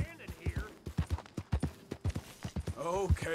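A horse's hooves clip-clop in Red Dead Redemption 2 gameplay, a quick, quiet run of hoof beats under someone speaking over them.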